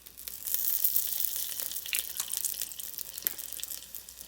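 Olive oil heating in a pot for a pot roast, with a steady, close sizzle and scattered crackling pops running throughout.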